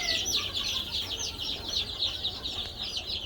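A flock of chickens with a rooster clucking and chattering together in a farmyard pen, a dense continuous bed of overlapping bird calls at moderate distance with no talking.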